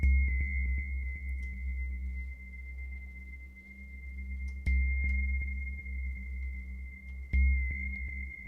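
An OP-XY synthesizer plays a tone with tremolo: a sustained high beep sits over a throbbing low pulse that swells and fades rhythmically, with the note retriggering about every two and a half seconds at moderate, close volume.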